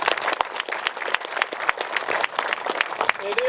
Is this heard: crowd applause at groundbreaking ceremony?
yes